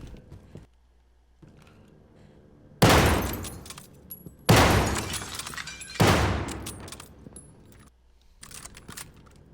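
Gunfire in the World War II shooter Call of Duty Vanguard, three loud close bursts of rapid automatic fire, each trailing off, separated by quieter handling clicks.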